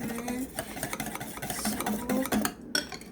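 Egg batter for pancakes is beaten by hand in a bowl, a fast run of close clinking whisk strokes against the sides, steady and loud throughout.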